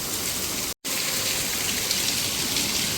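Dense, steady hiss of heavy rain pouring down close by, constant and loud, with a momentary cut near the start.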